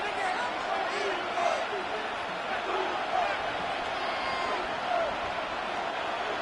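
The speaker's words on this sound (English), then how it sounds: "The crowd making their presence felt." Steady stadium crowd roar from an EA Sports NFL video game broadcast, a dense continuous wash of cheering and murmur with a few slightly louder swells, no distinct voices on top.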